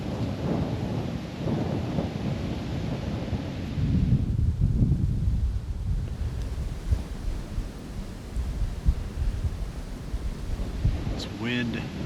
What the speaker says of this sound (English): This wind is just pounding us.